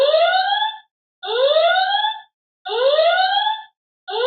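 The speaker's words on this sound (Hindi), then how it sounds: "इस तरीके से सायरन खुद बजा सकते हैं" A Philips Smart 360 Wi-Fi home security camera's built-in siren wails in loud, rising electronic sweeps, three full cycles with short gaps between them and a fourth just starting, heard alone without any voices.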